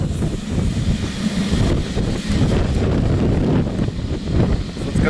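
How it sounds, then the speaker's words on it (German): Strong wind gusts roar continuously across a microphone at a wind farm with Enercon E-40 and E-53 turbines, loud broadband buffeting with rising and falling gusts and no voices. "Das ist ganz schön windelig hier."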